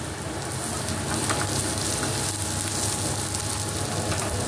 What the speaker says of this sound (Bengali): পেঁয়াজটা দিয়ে দিব। পেঁয়াজটাও ভালো করে ভেজে নেব।